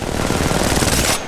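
Rapid automatic gunfire in Apex Legends Mobile, a loud, dense, continuous burst of shots lasting just over a second before cutting off abruptly.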